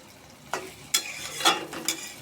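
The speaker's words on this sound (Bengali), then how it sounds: "আমি এটা ভালো করে একটু কষিয়ে নেব, ডিমের কাঁচা গন্ধ যাওয়ার আগ পর্যন্ত।" Rohu fish roe sautés in a pan, a soft sizzle under a few scraping stirs of a spatula, brief brighter strokes breaking the quiet frying.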